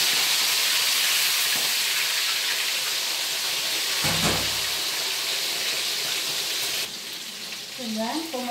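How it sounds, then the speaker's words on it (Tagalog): A cooking pot of water hisses and bubbles at a boil, loud and close, with a sizzling pan of fried tulingan fish nearby; brief clatter and faint background sounds appear near the end. "So, yan, kumukulo na."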